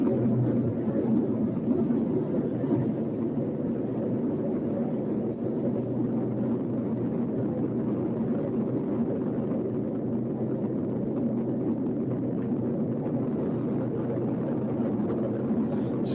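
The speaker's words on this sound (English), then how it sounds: "Just the sound of the roar it's making" A huge tornado gives off a continuous low roar, a steady deep rumbling drone that holds level throughout without breaks or voices.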